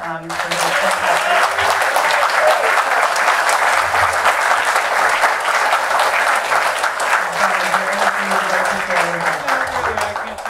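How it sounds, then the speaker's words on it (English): An audience at a 2023 Jaybirds Day gathering applauds a contributor with loud, dense clapping that holds steady for about ten seconds before easing slightly at the end. "So please, everybody, extend a round of applause for John Ciaglia."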